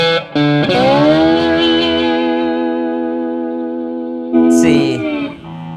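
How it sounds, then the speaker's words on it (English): An electric slide guitar played with a heavy brass slide sustains one long singing, distorted note that slowly fades, then a second gliding attack near the end, loud and close. "so to me, brass slides sing better like that."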